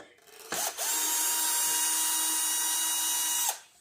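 A power tool whirs steadily for about three seconds while backing screws out of a Traxxas Hoss RC car body, a close, loud, even motor whine starting and stopping abruptly.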